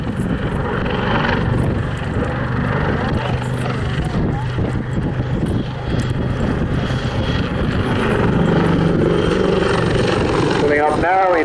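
Royal Navy Wildcat helicopter from the Black Cat solo display flying at Southport Airshow 2022, a steady loud rotor and engine drone throughout, with a commentator speaking over it.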